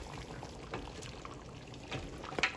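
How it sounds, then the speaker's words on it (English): Water goes into a cooking pot of smothered neck bones with soup base and granulated bouillon, heard as a quiet, brief trickle and soft splashes with no talking. "I'm going to add a little more water"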